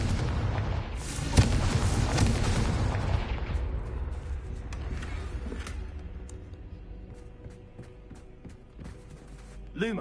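Fiery Confringo spell blasts in Hogwarts Legacy, a loud booming explosion with a rumbling roar that slowly fades, followed by sharp crackling bursts and a spoken incantation.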